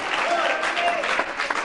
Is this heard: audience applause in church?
yes